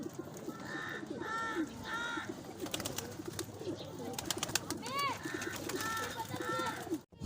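High-flyer pigeons coo in soft, repeated bursts close by, with fainter chirps and clatter in the background and a voice talking underneath.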